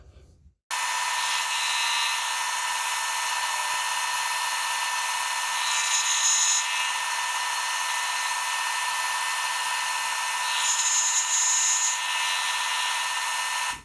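Home-shop milling machine cutting a home-made grooving tool, a steady high-pitched whine running continuously for over ten seconds with brief shrill tonal rises, loud and close, no talking.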